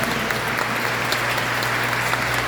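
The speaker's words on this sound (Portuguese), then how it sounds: "Pode aplaudir." Steady, even applause from a church congregation during a homily, a continuous wash of clapping with a low hum beneath it.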